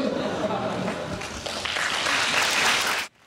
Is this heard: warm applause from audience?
yes